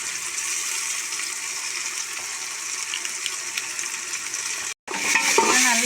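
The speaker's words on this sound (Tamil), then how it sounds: "நல்லா வதக்கி விட்டுருங்க." Meat sautéing with ginger garlic paste in a pan, a steady close sizzle and stirring hiss that cuts out briefly near the end, then resumes with scraping.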